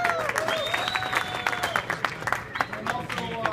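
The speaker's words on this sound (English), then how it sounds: "We give a round of applause." A live audience applauds at an event premiere, steady scattered clapping with cheers and voices mixed in, moderately loud throughout.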